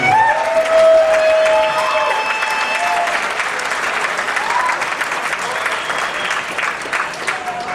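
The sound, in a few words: applause at arm wrestling awards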